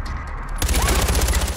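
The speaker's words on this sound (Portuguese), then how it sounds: "Eu errei 50 tiros seguidos." A rapid burst of Far Cry 4 machine-gun fire rattles steadily after a short moment of muffled noise, loud and close.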